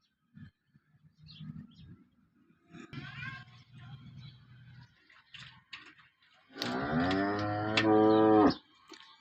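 One of four cows being milked lets out a long, loud moo near the end, after scattered quieter lowing and shuffling farmyard noises.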